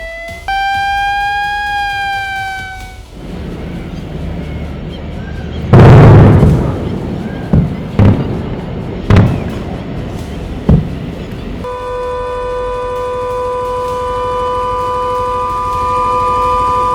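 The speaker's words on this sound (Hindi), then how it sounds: "उसके भेजे गए ड्रोन आतिशबाजी की तरह फूटकर आसमान में ही गिर रहे हैं" Drone attack over Amritsar with sirens: wailing sirens rise and fall, then loud bursts and booms go off in the sky at irregular intervals, and a steady siren wail drones on afterward.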